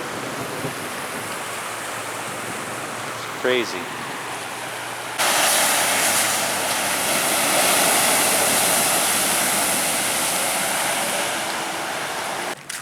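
Monsoon floodwater rushes through a yard, backed up from a river behind a neighbor's blockage, a steady roar that swells louder partway through; someone speaks briefly over it.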